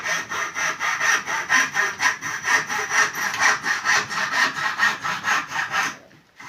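A hand saw cuts through clamped wood in a carpentry class, with steady rhythmic back-and-forth rasping strokes, loud and close. The sawing ends abruptly near the finish.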